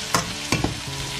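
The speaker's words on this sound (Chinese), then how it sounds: "快速的给它们翻炒个5、6、7、8下" Green beans and potatoes stir-fried in a wok with chopped scallion and garlic: a low sizzle broken by three quick scraping tosses of the spatula, close and clear.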